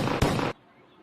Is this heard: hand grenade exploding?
yes